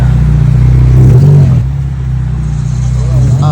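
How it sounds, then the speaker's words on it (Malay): A car engine driving up nearby, a loud low steady rumble that dips slightly midway, with no talk over it. "Tu bukan bunyi kereta bini aku ke?"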